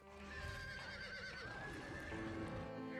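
Demon horses neigh in the video game Dracula: Origin, a long, wavering whinny with hoof clip-clops over a continuous rumbling backdrop.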